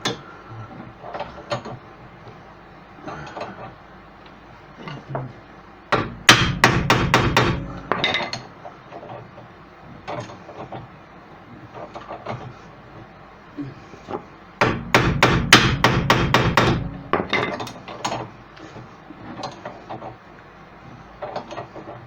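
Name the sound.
tapping with a hammer to free a tight hub bush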